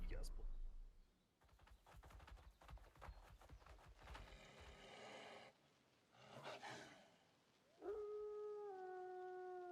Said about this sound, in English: Giant lightning wolf?